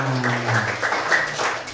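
Brief applause from a class of students at a school points announcement, a short patter of clapping under a low hum, fairly close.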